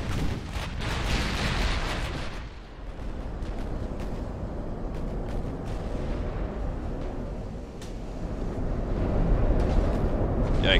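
Battleship main guns fire in the naval war game Ultimate Admiral: Dreadnoughts, with repeated deep booms and rumbling over a constant low roar of battle, moderately loud.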